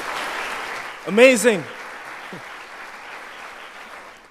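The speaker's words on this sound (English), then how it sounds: "please give yourselves a round of applause again" Applause from an audience at the 2023 Grenlec debate finals, honoring debaters and coaches; a steady wash of clapping runs throughout, briefly overlaid by a single enthusiastic spoken exclamation near the start.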